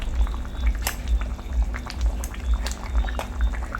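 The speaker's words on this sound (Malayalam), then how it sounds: "നല്ലപോലെ തിളച്ച് കുറുകി വന്നിട്ടുണ്ട്" Kerala-style crab curry bubbling steadily in a pot as it thickens, with continuous low simmering and frequent soft pops and splutters breaking the surface, close and moderately loud with no talking.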